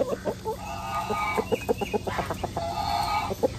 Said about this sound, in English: I have a Brody chicken.